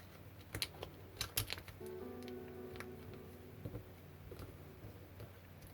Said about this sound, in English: we're going to fold the whole thing in half